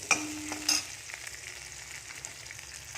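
Onion and garlic sautéing in a pan for a yam curry, a soft continuous sizzle with a few brief clinks and stirring scrapes near the start, quiet and steady.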